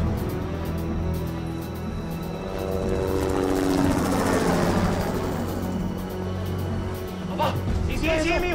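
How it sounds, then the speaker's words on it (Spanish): A helicopter's rotor thrums steadily nearby, swelling in the middle, while voices talk over it. "¿Qué es lo que está sonando allá? Un helicóptero, hermano."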